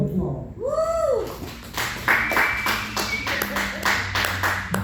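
Audience applause and cheering for a performer at a poetry event, a dense burst of clapping that swells after an opening whoop and carries on steadily at close range.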